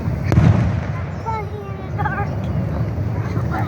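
Fireworks show at Cumberland Bowl Park in Jonesville, Virginia, in July 2023: a loud boom followed by crackling and whistling bursts, with people talking nearby.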